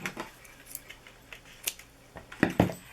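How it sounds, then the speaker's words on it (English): Scissors snipping a short length of Christmas gift trim for a snowflake ornament hanger, a few quiet crisp cuts with two sharper snips near the end. "I just have this Christmas gift trim, so any trim will work, and you just cut off a little bit"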